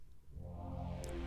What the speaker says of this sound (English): we actually add some new synth in here called Vintage Brassy Bass